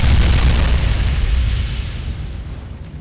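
A heavy, rumbling explosion in Fallout New Vegas as gunfire ignites gas in the air, a loud deep boom already underway that rolls and slowly decays over three seconds.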